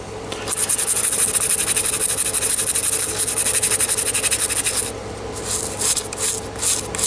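A brush scrubs steadily across a painted scale model surface to chip the paint, a close, continuous rasping rub that eases into lighter, broken strokes near the end, with no talking.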